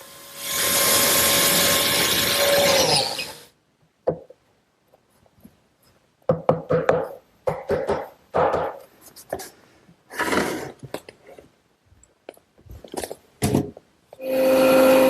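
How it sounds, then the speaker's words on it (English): Biscuit joiner cutting a slot in wooden side piece stock for a roll top desk in a woodworking shop: a long loud whirring cut at the start, then scattered clatters and short bursts, and a brief motor whine returning at the end. "I'm going to cut a biscuit slot that'll bridge that side piece, helping hold it all together when it's assembled"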